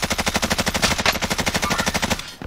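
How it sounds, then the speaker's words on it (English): Rapid automatic gunfire in the Warzone video game, a steady fast stream of loud, evenly spaced shots lasting a couple of seconds before cutting off. "Shots to our left"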